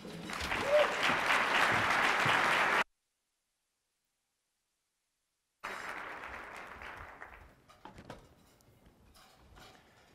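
Audience applause welcoming a keynote speaker at a NACTO conference, a dense sustained burst of clapping that cuts off, then resumes more thinly and fades into scattered claps.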